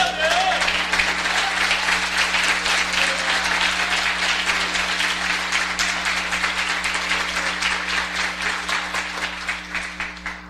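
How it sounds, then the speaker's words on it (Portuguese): A church congregation bursts into sustained applause, dense rapid clapping from many people filling the room, gradually thinning toward the end over a steady low hum. "Aplauda o Senhor aí."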